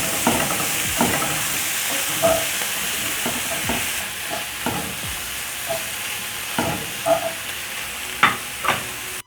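Beef liver and tomatoes sizzling in a pan under a steady hiss, with repeated scraping and clacking stirs at irregular intervals, close and loud.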